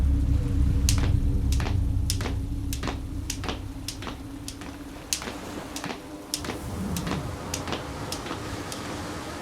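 Raindrops falling on dirt tap in a steady stream of crisp, close ticks over a soft low rumble, falling at an even, unhurried rhythm.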